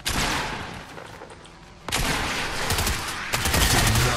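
Gunfire in the Fortnite video game, heavy bursts of rapid shots that dip briefly and then return in loud, dense volleys, with no talking.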